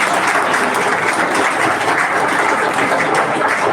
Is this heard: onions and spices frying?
no